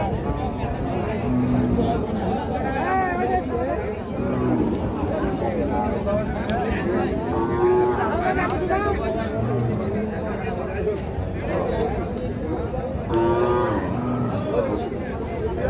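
Cows at a cattle market lowing several times, moderately near, amid busy crowd chatter and people talking close by.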